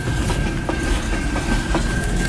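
A long CN eastbound mixed freight train led by CN 8904 rolls past in Port Huron, Michigan, with steady, close wheel rumble, a rhythmic clickety-clack and a thin, sustained squeal.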